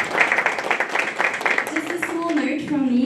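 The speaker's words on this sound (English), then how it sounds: "Let's give Prof. Scholtz another applause." Audience applause for Prof. Scholtz at an environmental law seminar, a steady crackle of clapping filling the room for about two and a half seconds before it thins out and a voice starts speaking over the tail.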